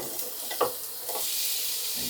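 Onions hit hot oil and sizzle in a broad, steady hiss, with a couple of faint clinks or stirs early on, heard up close for a brief moment.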